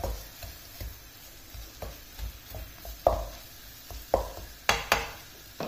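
Leeks stirred in a pan, with a spoon scraping and knocking in an uneven rhythm over a faint sizzle, close and fairly loud.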